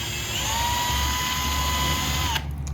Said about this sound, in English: they want us to use a 1/4 inch drill bit